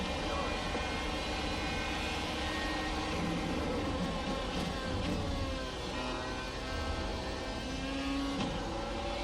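A Dallara iR-01 race car in iRacing, its engine droning steadily as the throttle is worked through the final corner, with loud, continuous buzzing tones that waver slightly in pitch.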